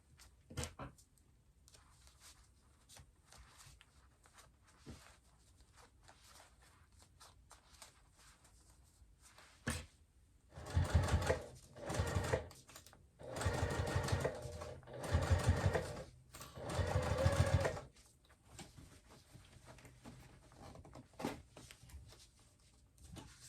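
A sewing machine stitches a zippered clutch purse, a wristlet, running in four loud bursts of rapid, even chatter, separated by short pauses and preceded by quiet handling taps and rustles.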